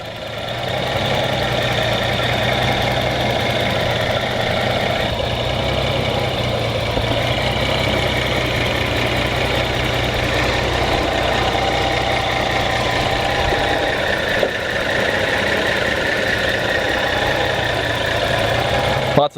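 A 1982 Datsun 280ZX Turbo with a 2.8 liter inline six idles steadily and close by, a constant even drone with a faint ticking texture that runs unchanged for nearly twenty seconds.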